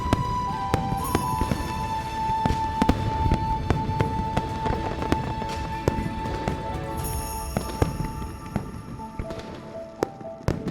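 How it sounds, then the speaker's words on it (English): Video game fireworks: rapid, dense crackling and popping bursts fill the scene continuously, with sharp sparkling transients over a busy background of game sound effects and music tones, in Love and Deepspace. "The fireworks are too loud."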